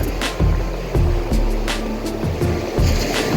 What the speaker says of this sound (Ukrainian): Штормове море.